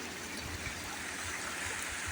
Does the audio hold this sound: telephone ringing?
no